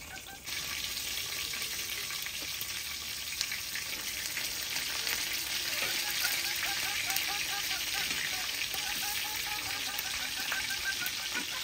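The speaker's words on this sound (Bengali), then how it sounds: "বন্ধুরা এক পিস হইলে আরেক পিস মতো ভেজে নিতে হইবে" Pumpkin-leaf fritters with dried fish, chepa shutki, sizzle steadily in hot oil in a village kitchen, a bright continuous crackle like rain that starts abruptly and holds for the rest, with faint background noises.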